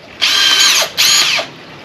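A decent power drill for boring porcelain, granite or ceramic tile runs in two loud, close bursts of high-pitched whine, each about half a second to a second long, with a short pause between them.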